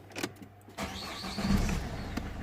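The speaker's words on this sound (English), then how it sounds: "when I start the engine" A Peugeot 3008 engine cranks briefly with a few clicks, catches and settles into a steady idle, heard close up with no talk.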